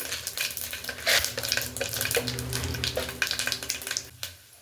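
Cumin seeds hit a pan on low heat while making vegetable pongal, giving a steady close crackling sizzle with scattered clinks and scrapes of a stirring spoon, no voices.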